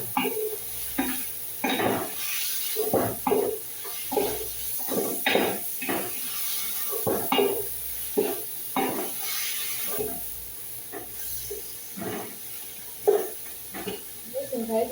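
Mutton fries with spices, onion and garlic in a pan, giving a steady hiss and sizzle. Stirring scrapes recur rhythmically through it, while a person talks over the cooking.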